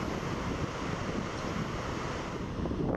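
Rushing water of the Waterfall of the Gods in Iceland, a steady, dense roar that holds constant throughout with no voices, heard close and loud.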